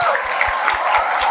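A studio audience claps in steady rhythm, hands striking together in even, quick beats under a bright wash of crowd noise.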